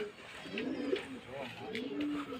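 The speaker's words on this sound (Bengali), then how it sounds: "আর পায়রা দেখুন" Pigeons coo at a home loft with chicks nearby, soft repeated low cooing calls close by, mixed with background activity and faint voices.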